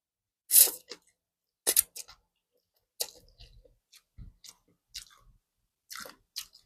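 Indomie instant noodles are chewed up close in short, wet, squishy bursts with crisp bites, separated by near silence and spread unevenly through the stretch. No talking is heard.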